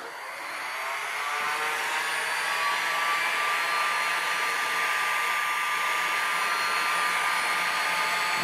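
A heat gun or hair dryer runs at a steady whoosh, warming paint protection film on a BMW 335d Touring. The airflow rises in the first second and holds constant, close and alone.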